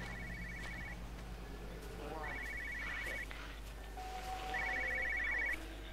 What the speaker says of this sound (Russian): где-то телефон звонит